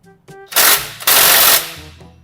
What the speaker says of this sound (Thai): วิธีการถอดนี่นะยิงน็อตออก